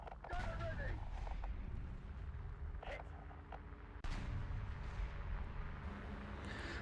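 A video game tank cannon fires and its shell hits armor, sounding as a few heavy, booming blasts with sharp impacts, separated by rumbling gaps, while someone talks over them.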